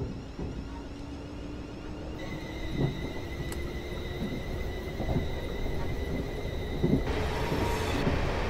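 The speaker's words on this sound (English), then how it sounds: "Quick train by here." A train rumbles past in Train Simulator 2015 on the Portsmouth Direct Line, aboard a Class 444 EMU, a continuous low roar with faint rhythmic clicks and steady tonal hums throughout, no voices.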